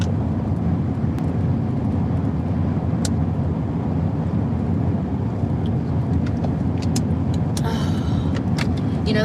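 A Duke Energy bucket truck rumbles past on a road, making a loud, continuous low engine and tire drone that holds steady throughout, with a few faint clicks near the end and no talking.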